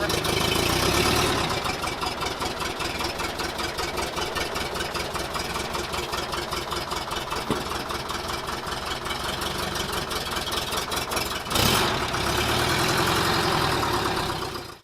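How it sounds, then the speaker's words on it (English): A low-RPM airplane engine, redlined at 2700 RPM, idles steadily with a continuous throbbing rumble, loud and close, with a brief surge near the end. "So it's very low RPM engine."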